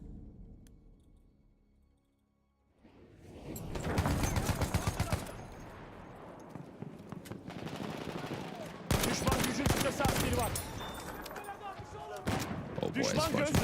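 Dense automatic and rifle gunfire with heavy explosions from a World War I battlefield in Battlefield 1, starting after a quiet opening and continuing in loud sustained bursts.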